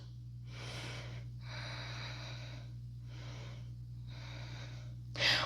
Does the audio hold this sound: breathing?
yes